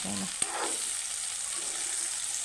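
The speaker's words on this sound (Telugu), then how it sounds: "మెల్లగా కలుపుదాము" Egg curry being stirred in a worn non-stick pan, a soft sizzle under a gentle scrape with one sharp tap of the spoon against the pan early on.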